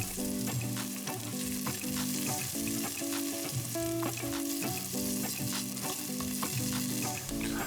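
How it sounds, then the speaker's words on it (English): Ginger sizzles in a hot pan as it is stirred, a continuous frying hiss with light stirring scrapes, partly masked by background music. "Then the ginger goes in. Carry on stirring."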